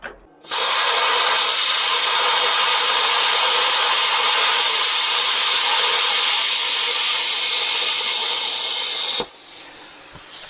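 Bestarc BTC500DP Gen 7 plasma cutter slicing through metal at around 40 amps, a loud steady roaring hiss that runs unbroken for about nine seconds, then cuts off abruptly, leaving a softer airflow hiss.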